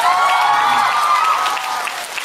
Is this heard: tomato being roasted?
no